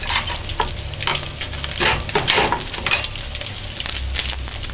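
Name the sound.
fish frying in oil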